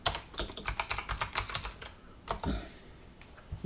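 Someone types on a computer keyboard, a close run of quick, irregular key clicks that pauses, then adds a few final taps, with no talk.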